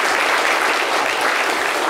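Studio audience on a television talk show applauding loudly, a dense, continuous wash of clapping with no pauses.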